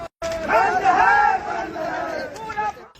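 Loud chanting from an angry crowd of flag-waving protesters on a street during an Indian nationwide strike, voices shouting slogans in surging waves after a brief silent start.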